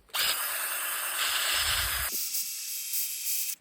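A hand drill bores a tap hole into a maple tree trunk at about waist height, a loud steady whirring grind that shifts to a higher, thinner pitch partway through before stopping abruptly.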